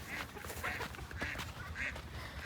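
Several farm ducks quack in short, repeated bursts over a steady outdoor background, moderately close, with no talking.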